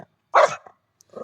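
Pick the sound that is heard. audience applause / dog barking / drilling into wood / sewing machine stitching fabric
dog barking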